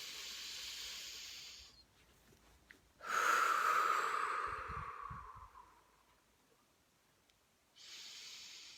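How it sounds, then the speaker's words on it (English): A long, deep breath during a guided relaxation session: a loud airy inhale swells and slowly fades over a few seconds, set between softer breathy stretches with no talk. "Deep breath."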